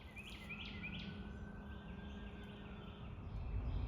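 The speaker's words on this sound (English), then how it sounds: "There's birds been singing all morning" Faint birds chirp in short repeated calls from woods at a junkyard overgrown by nature, heard quietly over a steady low background rumble of distant road noise.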